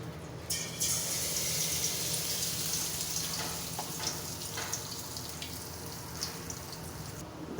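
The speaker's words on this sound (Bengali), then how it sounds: "তেলটাকে দিয়ে পিঠাগুলো ভেজে নেব, গরম হয়ে আসা পর্যন্ত।" Egg papor pitha frying in hot oil, a constant close sizzle and crackle with scattered pops, steady throughout the short stretch.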